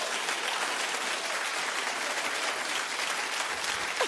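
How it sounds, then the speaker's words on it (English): A television talk show studio audience claps steadily throughout: thick, even applause with no voices. "No, let's just give her a clap because, poor Jennifer."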